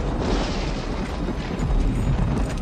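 A deep, continuous rumble of thunder rolls on without letup, broad and heavy, swelling slightly toward the end.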